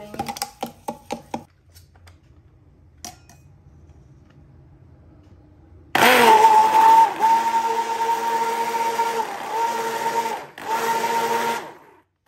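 A blender grinds strawberries with sugar and milk, starting abruptly as a loud, steady whirring roar that runs for about six seconds with a brief dip, after a few quiet ticks and knocks.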